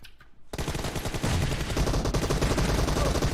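Loud, rapid bursts of automatic gunfire from a PUBG team deathmatch crash in after a brief quiet start and continue densely and without pause to the end.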